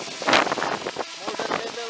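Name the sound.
strong wind during drone test flight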